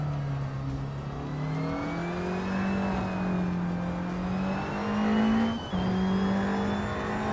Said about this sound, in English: driving a KTM Crossbow R, a lightweight and agile car known for sharp handling